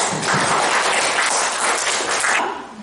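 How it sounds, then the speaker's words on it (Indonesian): Teachers at a school training session clap together, a loud sustained burst of hands that fills the space evenly and then fades quickly near the end. "Kita tepuk tangan dulu"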